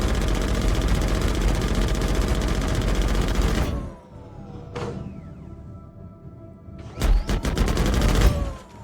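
Ship weapons fire in the space game Starlancer, with a dense, loud burst of rapid shots that cuts off. Short sharp zaps follow, then a final flurry of rapid fire.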